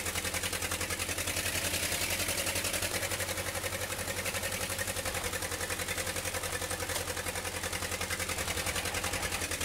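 Farming Simulator 15 tractor engine idling with a steady, constant drone and fine rhythmic pulsing, unchanging and alone at moderate level.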